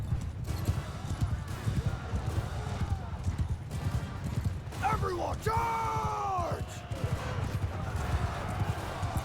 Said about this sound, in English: Oh, I see a horse way over yonder.